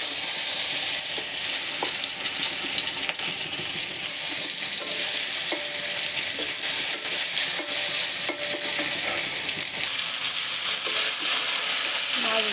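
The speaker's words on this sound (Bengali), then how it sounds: "মাছটাকে ছোট টুকরো করে হলুদ মরিচ লবণ মিশিয়ে এখন ভেজে নেব মাছটা।" Small pieces of baim eel fish coated with turmeric, chilli and salt fry in oil with a loud, steady crackle and sizzle. Scattered clicks come from stirring the pan, and a faint voice can be heard now and then.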